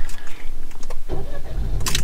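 An Opel Grandland X with automatic transmission starts up close by, with a brief click and quiet cabin hum leading into a loud engine crank and catch near the end.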